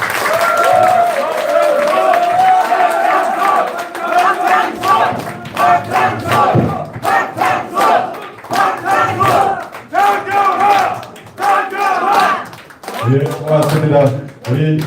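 A crowd at a political endorsement rally for a People Power Party candidate in Seongnam Sujeong cheers and shouts loudly, with applause and rhythmic chanting mixed in, continuous and close throughout.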